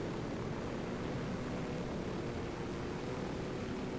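A nearly wrecked helicopter flies in the video game Ghost Recon Wildlands, giving a steady, loud rotor and engine drone that holds unchanged for the whole stretch with no voices over it.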